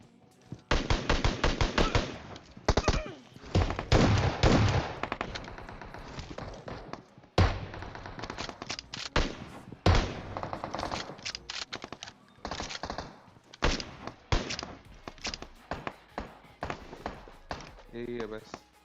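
Rapid shotgun blasts in the mobile battle-royale game PUBG Mobile, loud sharp reports in dense repeated bursts with short gaps, overlapping someone talking throughout.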